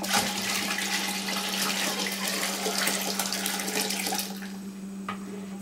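A warm bread starter mixture pours steadily into a bucket in a continuous splashing stream for several seconds, then tapers off near the end.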